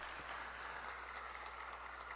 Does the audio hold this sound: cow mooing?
no